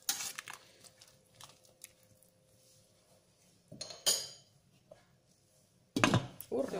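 Spoon stirring galushki soup in a pot, with a few scattered metallic clinks and scrapes against the pot, some louder knocks near the end, and soft talk in between.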